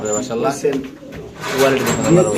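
Pigeons at a bird market coo softly and repeatedly nearby while people talk over them.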